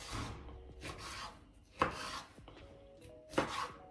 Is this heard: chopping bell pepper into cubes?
yes